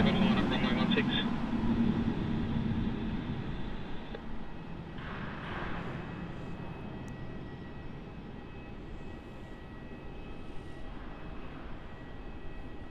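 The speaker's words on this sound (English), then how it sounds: "There it is, touching down there on runway 16." A Virgin Australia Boeing 737 arriving from Denpasar touches down on runway 16 at Melbourne Airport, a steady, fairly distant jet roar that swells early and then settles into a continuous rumble.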